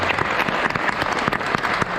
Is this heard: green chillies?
no